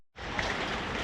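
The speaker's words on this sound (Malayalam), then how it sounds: "നല്ല അടിപൊളി മഴ പെയ്യുന്നുണ്ട് കേട്ടോ, അല്ലേ?" Heavy rain pours at night in Kollam, a steady dense hiss of falling water that starts abruptly and continues loud and unbroken, with no talk over it.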